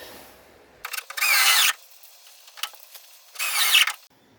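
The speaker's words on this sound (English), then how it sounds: "So I will now put a couple of Tech screws in here to lock that into place as well." Tech screws driven into the rear lower quarter panel of a Ford Escort MK1 during restoration: two separate whirring bursts from a power driver, each under a second long, with quiet pauses and a few light clicks between them.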